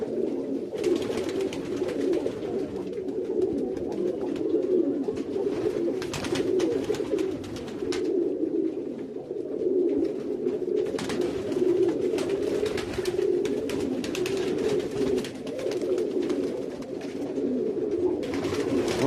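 Marble Baku pigeons coo steadily and close by, a continuous low warbling chorus with soft wing flutters and rustling throughout, no talking.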